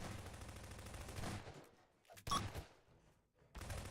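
Rapid bursts of gunfire aimed at a computer-controlled opponent in a video game, loud and dense for about a second and a half, then a short sharp burst after a pause.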